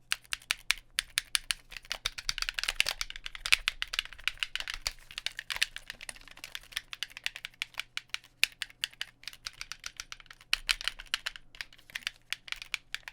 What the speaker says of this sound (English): you guys all know the sound of someone typing on controller